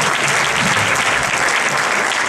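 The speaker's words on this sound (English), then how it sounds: "give him some round of applause" An audience bursts into dense, loud applause that holds steady and close for a couple of seconds, with no voices heard over it.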